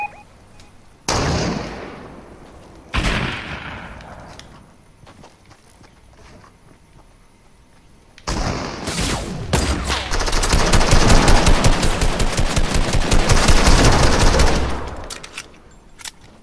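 Gunfire in the Fortnite video game: two sharp single shots early on, then a long loud burst of rapid automatic fire that keeps going for several seconds.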